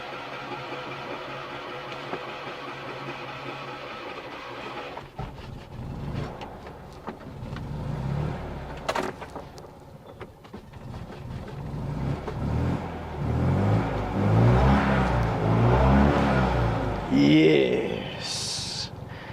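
A Fiat 500 engine is started in neutral using the choke, then settles into a throaty idle and swells with revving. It is heard close up, with voices nearby.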